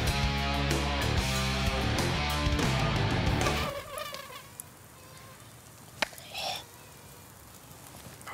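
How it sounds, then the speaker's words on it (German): Mosquitoes whine at an evening barbecue, a thin high buzzing heard close and faint after a loud stretch of music ends, with a couple of brief louder passes near the ear. "Mücken können einem echt den schönsten Grillabend versauen."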